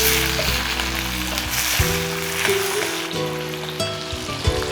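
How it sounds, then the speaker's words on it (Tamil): Tomatoes and tamarind sautéing in a pan for a spicy chutney, a steady close-up sizzle and crackle with a few soft knocks of the spoon, alongside a low continuous hum. "தக்காளி போட்டுருக்கேன் கொஞ்சம் புளிங்க இது நல்லா வதக்கி"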